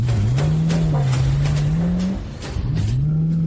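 A car engine hums steadily as the car drives, pitch rising and dipping with gear and speed changes, loud and close, briefly easing off before picking up again.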